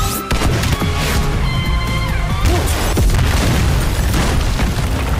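A loud, sustained explosive roar with crashing debris and booming impacts as an explosive is thrown at a gathered squad inside a building, dense and continuous throughout, no talking.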